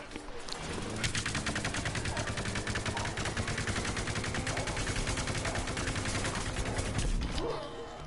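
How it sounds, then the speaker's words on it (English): Rapid automatic gunfire in the video game Plants vs Zombies Garden Warfare 2 rattles nearly continuously for several seconds, loud and dense, with faint game sounds underneath. "Shooting my buddy over there."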